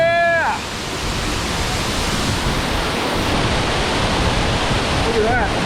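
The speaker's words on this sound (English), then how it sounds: "You can enjoy the waterfalls." Waterfall in a Philippine canyon rushing as a loud, constant broadband roar close by, with a brief whoop of a voice at the start and a short vocal sound near the end.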